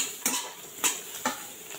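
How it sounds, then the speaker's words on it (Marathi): Three or four distinct metal clinks of a spoon against a pan as turmeric is stirred into fried onion, chili and peanuts, sparse and fairly quiet with no talking. "आता ह्यामध्ये आपण हळद टाकून घेऊयात. अगदी 1/2 चमचा हळद मी घेतली आहे. इथं छान मिक्स करून घेऊयात."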